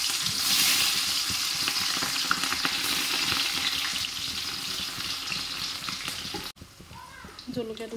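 Hot oil sizzles steadily in a pan before frying fish with onion and garlic, a loud continuous hiss that drops off sharply near the end, followed by quieter clinks and stirring.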